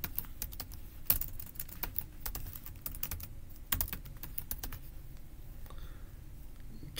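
Someone typing a password on a computer keyboard: quiet, close, irregular key clicks in quick runs with short pauses, heard alone.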